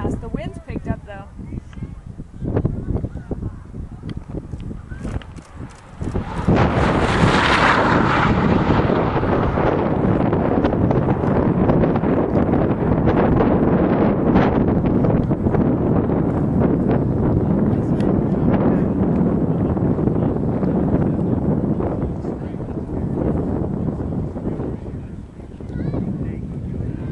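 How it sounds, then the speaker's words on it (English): Strong gusts buffet the microphone outdoors at a Ford GT speed run, a loud, steady roar that surges in after a few seconds and holds almost to the end, with voices faintly audible early on. "The wind's picked up though."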